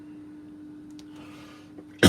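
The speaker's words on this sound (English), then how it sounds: "Excuse me for coughing." A single sharp cough bursts out at the very end after near silence with a faint steady hum, close to the microphone in an indoor workshop setting.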